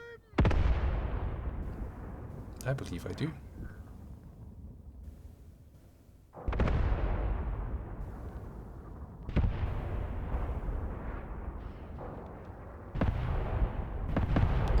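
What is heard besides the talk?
mortars firing in the video game Graviteam Tactics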